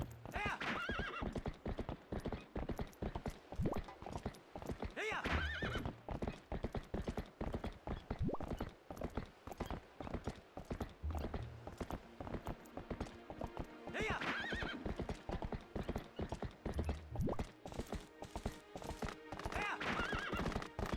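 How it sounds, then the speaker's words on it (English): A horse in Twilight Princess clops along steadily, hooves beating a continuous galloping rhythm, with a stock neigh and whinny rising at intervals over the hoofbeats. "listen to that stock-ass neigh"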